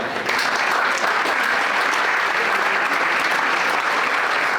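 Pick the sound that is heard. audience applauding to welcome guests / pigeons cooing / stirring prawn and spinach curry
audience applauding to welcome guests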